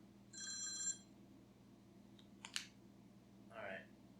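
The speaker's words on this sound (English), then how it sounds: "phone rang." A phone ringing during a podcast recording, heard as a short electronic ring burst early on, followed by a couple of quieter clicks and another brief tone, all faint over low room hum.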